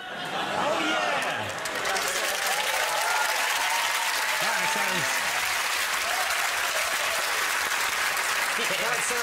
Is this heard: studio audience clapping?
yes